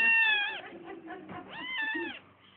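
A cat meows twice in close succession, each call a drawn-out, rising-then-falling wail, fairly near and alone against a quiet background.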